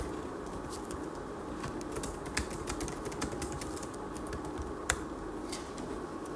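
Typing on a computer keyboard while writing Python code, with soft steady key clicks close by and a couple of sharper taps over a constant background hiss, no talk.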